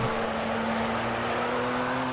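Race car engine in the racing video game Project CARS holds a steady, loud drone with a sustained low tone as the car slows under braking, continuous throughout with no talk.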